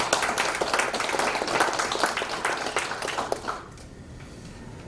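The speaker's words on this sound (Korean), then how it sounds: "이럴 때 박수 한번 쳐주세요." Audience applause at a lecture marking the centenary of the March 1st Movement, a dense burst of many hands that thins out and fades after about three and a half seconds, leaving quiet room tone.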